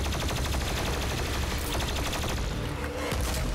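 A rapid-fire railgun minigun fires in DOOM Eternal, a loud, unbroken stream of fast rattling shots that runs the whole time over heavy game sound.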